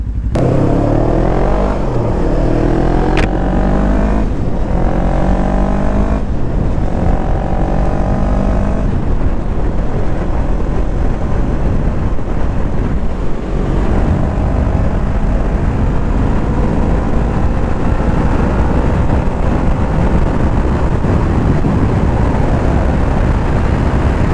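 A Yamaha R3 300cc motorcycle ridden at speed: loud, steady engine drone with rising and falling rev pitch over heavy wind rush, close and continuous throughout.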